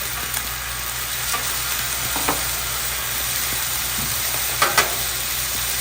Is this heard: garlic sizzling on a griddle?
yes